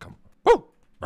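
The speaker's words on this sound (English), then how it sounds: "that's my dog" A single short, sharp bark from a nearby dog, framed by brief bits of a man's speech before and after.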